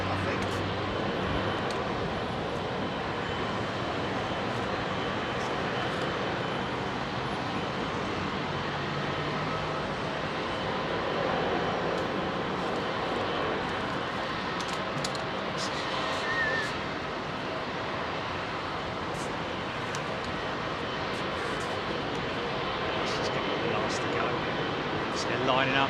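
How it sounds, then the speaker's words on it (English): An EgyptAir jet airliner takes off from runway 27R at London Heathrow, a steady, broad roar that holds for the whole stretch without fading, with faint voices at moments. "think this Egypt Airjet's going to be the last out"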